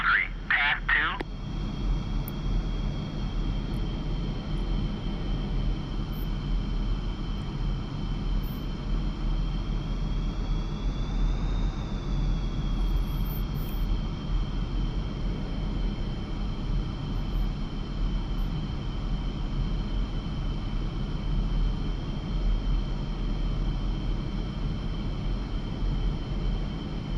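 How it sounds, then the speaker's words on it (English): A MiG-29 jet taxiing in the DCS flight simulator, a steady low engine rumble with a constant high whine that rises briefly and settles, heard from inside the aircraft with no pauses. "So let's start our taxi out"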